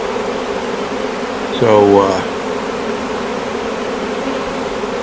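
A swarm of honeybees marches into a hive, making a steady, dense buzz that fills the whole stretch; a voice speaks briefly partway through.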